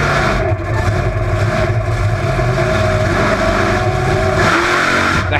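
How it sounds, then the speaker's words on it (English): The Bigfoot monster truck's big engine roars and revs continuously during wheelie attempts at an arena event, heard loud and close from inside the cab, with rising and falling throttle surges and a steady rumbling drone throughout. "Riding along with Larry during his wheelie attempts with our hazard pay cam."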